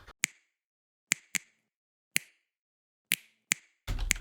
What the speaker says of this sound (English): That would just me clicking like that.